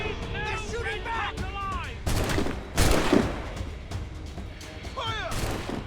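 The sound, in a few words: gunfire in battle, from video game Assassin's Creed Rogue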